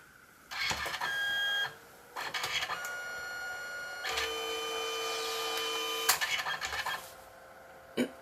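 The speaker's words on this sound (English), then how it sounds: "I'm printing another photo." A Canon SELPHY CP1300 compact photo printer whirs loudly while printing a photo, its motor running in several steady bursts separated by short pauses and faint clicks.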